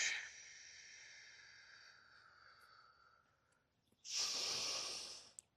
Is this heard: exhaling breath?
yes